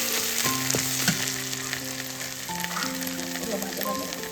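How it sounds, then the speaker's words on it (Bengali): Banana stem (thor) frying in oil in a wok, a steady close sizzle with crackles and occasional stirring clinks, faint tonal ringing in the background. "ভাজা ভাজা পুরো তেল ছেড়ে দিয়েছে।"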